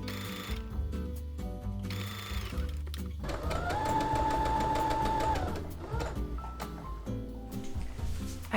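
Close sewing machine stitching elastic channels into a summer dress, steady mechanical whirring in several runs, the longest a sustained hum in the middle, with soft handling noises in between.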